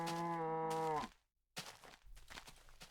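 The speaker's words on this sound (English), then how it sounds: "Keep doing you, cow." Minecraft cow lets out one loud, drawn-out moo that ends abruptly, followed by a short silence and then soft game background noise.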